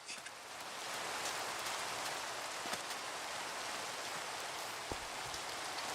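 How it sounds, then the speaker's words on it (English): Steady rain falls in Minecraft, a continuous even hiss of pattering drops with a few faint clicks and no voices. "the usual thing is the rain has nothing to do with the cloud cover"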